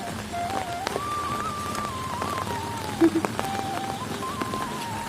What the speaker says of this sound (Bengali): বৃষ্টি জোর আসছে